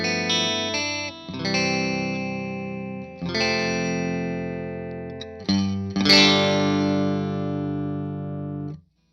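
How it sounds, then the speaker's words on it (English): A Telecaster on its middle pickup setting (bridge and neck together) plays through a Vox amp with a clean tone. Sustained chords ring out, changing every few seconds, alone and with no talking, before cutting off at the end. "Right now I'm playing a Tele through a Vox, and I'm playing on the middle position, so bridge and neck."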